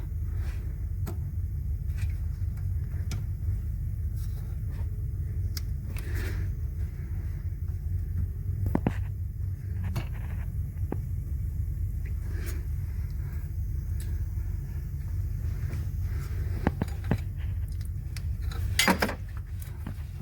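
A metal hose clamp falls inside the engine compartment of a Ford Transit during coolant leak repair, giving faint scattered clinks and a sharper metallic rattle near the end over a steady low rumble.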